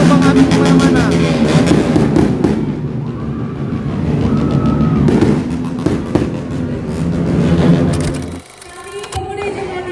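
New Year's Eve fireworks burst outside a church during a youth year-end prayer gathering, with loud, dense crackling and booming that continues steadily through most of the stretch, mixed with crowd noise and voices, before easing near the end.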